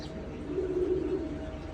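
A soft, low pigeon coo rises and fades once against a quiet, steady background hum.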